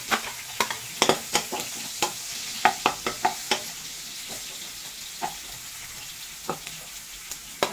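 Garlic sautéing in a pan, a steady sizzle broken by repeated sharp taps and scrapes of a spatula against the pan at an uneven rhythm, close and without talking.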